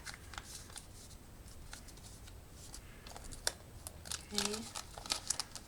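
Paper banknotes being counted and folded in half for cash stuffing, giving soft crinkles and shuffling rustles with a few sharper crisp snaps near the end, close and quiet, with a brief spoken word.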